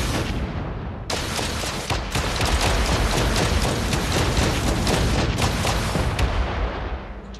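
Ship turrets in Space Engineers keep firing in a dense, sustained barrage of loud, rapid booming shots, an unbroken roar of gunfire with no pauses.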